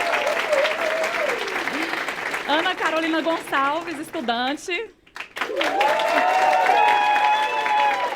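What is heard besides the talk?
studio audience applause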